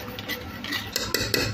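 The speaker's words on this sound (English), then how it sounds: "and stir it through." A spoon stirs sugar into boiling fruit jam in a pot, giving quick metallic scrapes and clinks against the pot over a bubbling simmer, close and steady with no voices.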